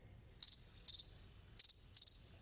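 Cricket chirps from a messaging app sound effect, sounding in five short, bright bursts of trilled pulses at an even rhythm against near silence.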